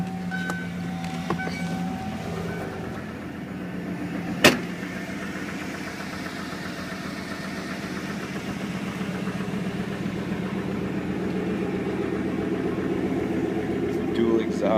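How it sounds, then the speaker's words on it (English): A car with dual exhaust idles steadily close by, a constant low rumble under a voice, with one sharp click partway through. "I love the dual exhaust sound."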